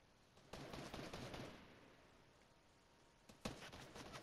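Fortnite gunfire comes as two faint bursts of rapid shots, one longer volley early and a shorter one near the end, with no voices over it.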